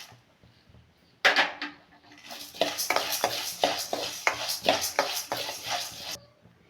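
Urad dal stirred and fried in a pan for a curry leaf chutney powder: a spoon scrapes rhythmically against the pan over a soft sizzle, starting abruptly and continuing in repeated close strokes before stopping.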